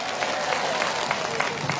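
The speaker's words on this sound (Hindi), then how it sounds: "एक बार जोर से ताली बजाइए" A crowd at a hunger strike claps steadily and densely for the whole brief stretch, sounding close and fairly loud.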